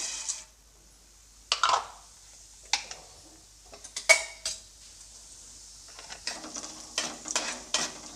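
Urad dal goes into hot oil in a pan for tempering, giving a run of scattered close sizzles and crackles with a few spoon scrapes and pan clinks between quieter gaps.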